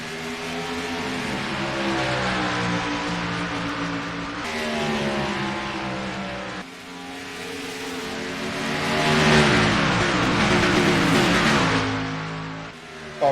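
Race cars roaring away together at the start at Dover Motor Speedway, a loud sustained engine drone that swells as the pack accelerates and passes, with no voices.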